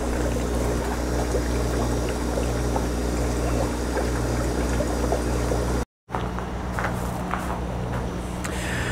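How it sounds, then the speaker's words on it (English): Compost tumbling into water inside a trash-can compost tea brewer makes a steady, loud, splashy pour with trickling and bubbling, briefly cut off near six seconds before resuming. "that's really it as far as adding the compost to the water"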